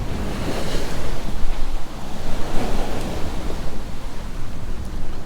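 Strong wind and breaking waves rush past a sailboat at sea during Caribbean squalls, a steady loud roar of surf with wind buffeting the microphone throughout, no voices.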